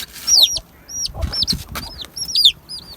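Chickens cluck and cheep in quick, high-pitched bursts, several birds calling close by amid faint rustling.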